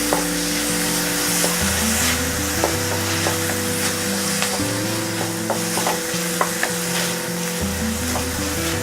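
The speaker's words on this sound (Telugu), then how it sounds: "ఇలా ఉల్లిపాయలు కొంచెం దోరగా వేగిన తర్వాత అల్లం వెల్లుల్లి పేస్ట్ వేసుకోవాలి. ఇలా కింద మీదకి కలుపుకుంటూ ఉండాలి." Onions frying with ginger garlic paste hiss in a pan while a spoon stirs them with light, irregular clicks and scrapes, a constant sizzle beneath steady background music.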